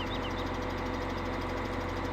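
A truck engine in Farming Simulator 17 idles with a steady low rumble and constant mechanical hum throughout.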